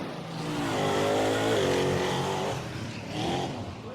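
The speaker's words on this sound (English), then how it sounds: "This is a 572 blown and alcohol injected big block Ford motor." A drag truck's blown, alcohol-injected 572 big block Ford engine revs loudly and close, a deep throbbing roar that climbs, holds, then dips and surges again with no talk over it.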